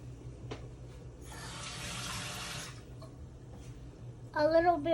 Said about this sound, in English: We're gonna put water again.